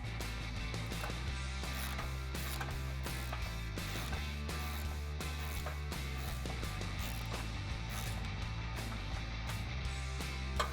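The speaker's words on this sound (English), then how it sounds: "I'm just going to go ahead and tighten down those bolts." Rapid ratchet clicking as bumper bolts are tightened with a long extension on a 2018 Jeep Wrangler JL's Barricade Extreme HD front bumper, a steady run of close, crisp pawl ticks with no talking.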